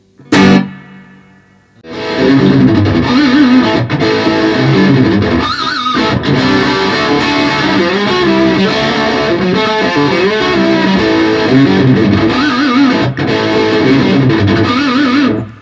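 A sharp strum rings out, then a distorted electric guitar through a tube amp with reverb plays continuously, thick and saturated with a reverberant tail, loud and up close.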